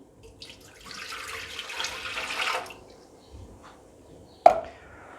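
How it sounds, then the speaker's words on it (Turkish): Whey, 355 millilitres, poured into the pan of a bread machine while making spelt bread: a soft, steady splashing stream that swells and then fades, followed by a single sharp knock near the end. "355 mililitre peynir altı suyumu ekliyorum."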